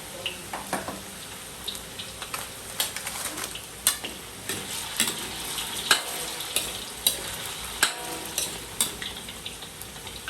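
Potatoes, a second batch for menudo, frying in hot oil with a steady sizzle, punctuated by repeated stirring clatters and scrapes at an even, busy rhythm close by.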